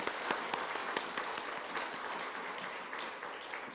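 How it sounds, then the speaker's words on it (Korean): A church congregation gives a round of applause in encouragement, many hands clapping in a lively, even burst at moderate loudness throughout. "격려의 박수 한번 하겠습니다"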